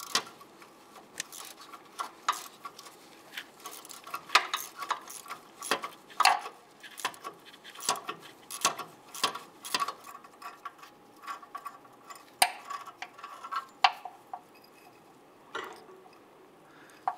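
Ratchet wrench working a rusted nut and bolt off a 2002-2008 Dodge Ram 1500 exhaust at the catalytic converter, a close series of irregular sharp clicks and short ratcheting bursts with quiet pauses between.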